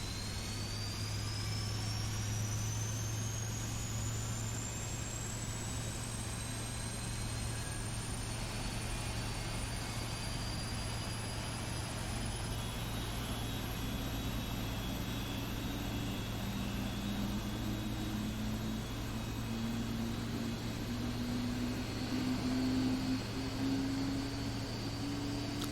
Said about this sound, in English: those engines beginning to spool up